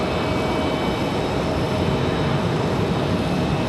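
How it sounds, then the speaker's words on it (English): A Copa Airlines airliner arriving from Panama City at Raleigh-Durham International produces a steady, loud, broadband jet roar that holds constant throughout, with no voices. "Seemed like a really quick arrival for Copa Airlines."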